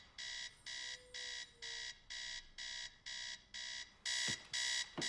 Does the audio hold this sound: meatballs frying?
no